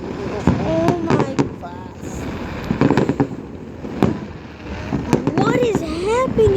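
Fourth of July fireworks bang in repeated sharp bursts, with several loud cracks scattered across the stretch, while people talk excitedly over them and wind buffets the microphone.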